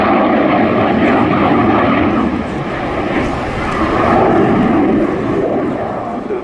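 A Polish Air Force MiG-29 jet fighter makes a high-speed pass at the RIAT 2016 airshow, producing a loud, steady, broadband engine roar that swells slightly and holds throughout.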